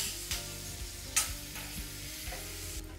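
Onions fry in a little oil in a pan for bitter gourd curry, making a soft, fairly faint sizzle punctuated by several light utensil knocks and scrapes, with a low hum underneath and no talking.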